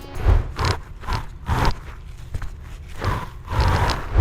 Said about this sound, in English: an inconsistent or like a jumpy drag